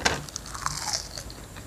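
Close crunchy bites and chewing on a dried fish snack from Thailand, a sharp crunch at the start followed by smaller crackling chews.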